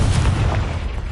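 The Confringo explosion spell in Hogwarts Legacy lands as a loud, low booming burst that rumbles on through the short moment with no voice over it.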